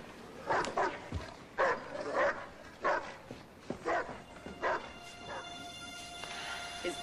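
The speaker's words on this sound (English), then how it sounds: "His dog has been raising hell ever since he left." A dog left alone at a house barks in short, sharp bursts of about eight yips and woofs, moderately close, with whimpering tones between barks.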